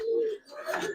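A silver Giribaz pigeon gives a brief, soft, close coo, with a longer low note followed by a rougher rolling burst.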